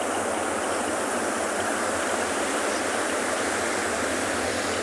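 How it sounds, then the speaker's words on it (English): A small stream spills as a waterfall into the ocean at Penguin Beach, giving a continuous, loud, broadband rush of water with no breaks and no voices. "So we've got our own Penguin Beach waterfall here."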